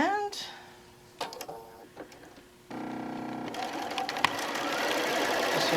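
A quarter-inch seam in a quilt panel is sewn on a sewing machine, with a short whirring burst followed by a longer steady run of stitching after some handling clicks, and a voice speaks briefly at the start.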